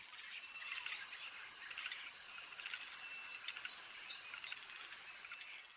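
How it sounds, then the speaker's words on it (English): Frogs call in a Congo forest, a dense, continuous chorus of shrill trilling that holds steady throughout, soft and somewhat distant with no voices. "The frogs are extremely loud here."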